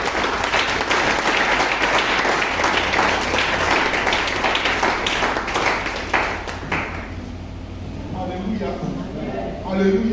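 A church congregation applauds loudly and steadily for several seconds, the dense clapping thinning out toward the end as voices and singing rise beneath it.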